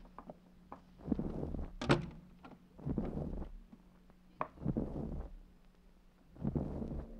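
A door is unlocked and opened in an old-time radio crime drama, with a series of soft thunks, clicks and shuffling knocks spread over several seconds, moderately quiet.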